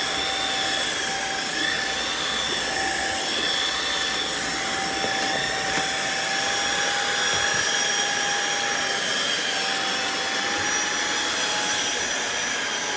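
A Riccar R70 floor washer vacuum cleaner with a dual brush roll runs continuously, giving a steady, loud motor whine with high tonal hum that stays constant throughout.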